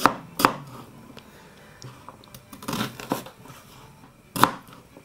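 A knife chops an onion on a board: a few sharp, separate cuts spaced irregularly, with soft crunching in between, close and fairly quiet.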